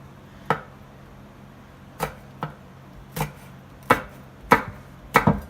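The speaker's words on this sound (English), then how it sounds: "And I'm going to chop this up as fine as I can" Half a jalapeño chopped with a knife on a cutting board: sharp, close knife strikes spaced irregularly at first, then coming quicker in small clusters toward the end.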